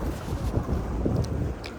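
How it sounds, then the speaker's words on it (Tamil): Cold rain falls outdoors in Dortmund, Germany, on a commemoration day as people walk toward a hall. It makes a dense, continuous wash with rumbling wind buffeting the microphone and a few faint, brief higher sounds. "இப்போ கடும் குளிரும் மழையுமா இருக்குது"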